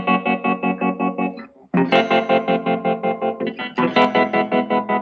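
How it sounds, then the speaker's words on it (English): Electric guitar run through a tremolo effect, its volume pulsing in a fast, even rhythm across sustained chords, with a brief drop before the strumming resumes; loud and close, no voices. "that's the tremolo effect."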